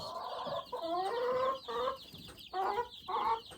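A full-grown chicken clucks nearby in a run of short, nasal bursts separated by brief pauses, each call bending in pitch. The calls are moderately loud and heard alone without talk.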